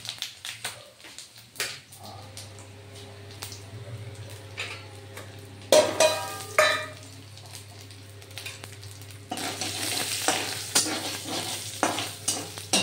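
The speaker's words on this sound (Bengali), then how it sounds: "তেল গরম হয়ে গেছে, এবারে তেলের উপরে দিয়ে দিলাম জিরে ফোড়ন, দিয়ে দিলাম নারকেল" Cumin seeds and coconut sizzle in hot oil for a Gobindobhog rice khichuri. A spoon scrapes and clacks against the pan at intervals, and the frying crackle swells louder toward the end.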